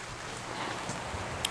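Steady rain falls mixed with slush outdoors at a shooting range, a dense even hiss of drops throughout with a few brighter splashes near the end and no voices.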